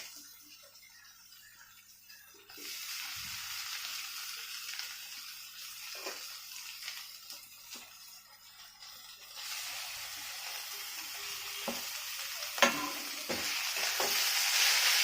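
Boiled potatoes, young jackfruit and bhetki fish frying with spices in a pan, a steady loud sizzle with scraping stirs that swells partway through and keeps hissing to the end.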